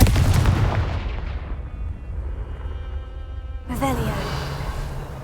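The Confringo blasting spell in Hogwarts Legacy erupts as a heavy, booming explosion that rumbles and decays over a few seconds, with a spoken voice present and a second burst near the end.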